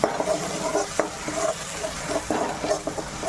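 Ground onion paste sautéing in hot oil with fennel seeds for a chana gravy, a steady sizzle broken by repeated scraping and stirring strokes of a spoon against the pan, close and fairly loud, with no talking.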